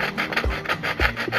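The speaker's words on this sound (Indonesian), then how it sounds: "kita udah bawa gergaji besi nih. Kita coba" A hacksaw cuts into a metal gas canister with steady back-and-forth rasping strokes, close and rhythmic, about three per second.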